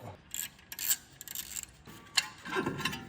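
A wrench clicks and ratchets while loosening a single bolt on a wrecked Lamborghini brake caliper, giving quiet, irregular mechanical ticks and scrapes with a brief sharper clink near the end.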